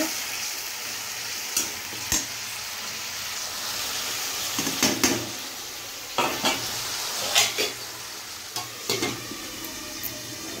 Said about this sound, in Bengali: লবণ হলুদ দিয়ে এটাকে একটু ভালো করে ভাজা করে নিবে।